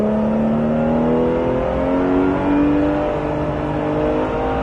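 A Porsche GT3 engine at the Pôle Mécanique Alès track, loud and close from inside the car, its pitch sliding down and up through braking and downshifts in a continuous strained howl.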